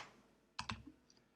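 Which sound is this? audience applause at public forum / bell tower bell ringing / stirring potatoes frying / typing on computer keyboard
typing on computer keyboard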